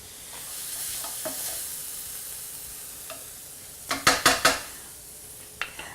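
Soy kheema sizzles softly while roasting in a pan, with a utensil scraping and stirring and a few sharp clanks against the metal toward the end.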